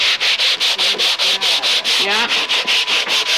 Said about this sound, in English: I'm gonna take a sanding block